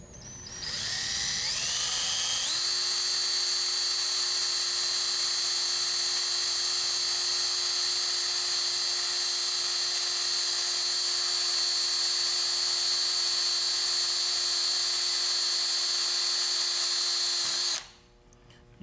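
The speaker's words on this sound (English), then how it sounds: "I'll drill the other holes right now." A power drill bores holes into a Volvo ignition lock cylinder, a loud steady high-pitched whine that spins up over the first couple of seconds, holds for about fifteen seconds, then cuts off abruptly.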